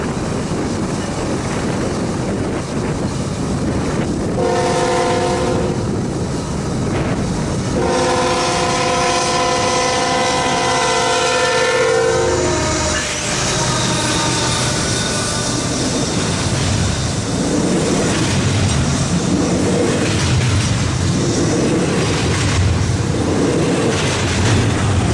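A CN freight train, Q115, approaches a rural crossing at Farintosh in minus 35 degree winter cold. It sounds several long, loud horn blasts, then rumbles past steadily with heavy rolling noise.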